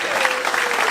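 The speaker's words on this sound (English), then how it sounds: "Round of applause for this man." Applause from a stand-up comedy audience, a dense steady wash of clapping that stays loud and close for the whole short moment.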